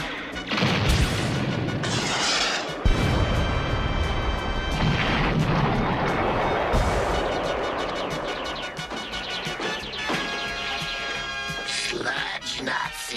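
Cartoon dynamite explosions in an animated robot battle, a rapid run of loud booms and crashes that go on without a break, mixed with clattering debris and brief shouted voices.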